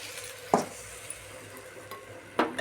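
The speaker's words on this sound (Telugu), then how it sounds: "మామిడికాయ పచ్చడి, చూడండి తాలింపు." Mango pickle tempering sizzles softly in a pan on the stove, with a steady hiss under two sharp clinks of a spoon against the pan. No one speaks.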